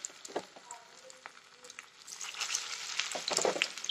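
Sweet corn pakora batter drops into hot oil and starts frying, a quiet crackling sizzle that grows denser and louder toward the end.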